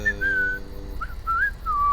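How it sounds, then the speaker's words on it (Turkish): A character whistles a short melodic tune in The Walking Dead: The Final Season game, with several clear sliding notes over a low background hum and no talk. "ıslık çalıyor bak dedi"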